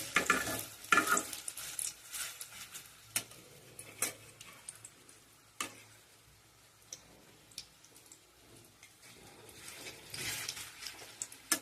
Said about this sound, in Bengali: বড়াগুলোকে ভুনতে দিচ্ছি।